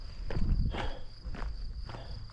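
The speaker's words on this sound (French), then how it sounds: "les cigales qui chantent" Cicadas sing in Provence near Forcalquier during a trail race, a thin steady high-pitched drone running continuously under louder, uneven footsteps on the trail close by.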